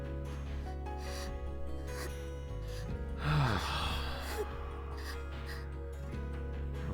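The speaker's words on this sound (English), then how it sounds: "Jerked involuntary out of a light sleep, I hear harsh, gasping breathing nearby." Harsh, gasping breaths from the visual novel game The Fruit of Grisaia, a close, rasping rush of air that swells for a second or two over a steady low game soundtrack hum.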